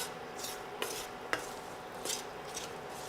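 Chopped green chillies stirred in hot oil for pickle, a faint sizzle under a few short scraping strokes of a spoon against the pan, quiet and close.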